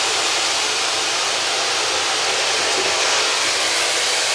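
Close and loud, a hair dryer set to the second air speed and second heat level blows in a steady, unbroken rush of airflow while drying hair, with no talking over it.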